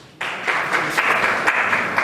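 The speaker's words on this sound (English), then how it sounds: "Please give him a round of applause." A crowd at a community event breaks into sustained applause for a local MP, dense clapping starting abruptly and continuing evenly for about two seconds.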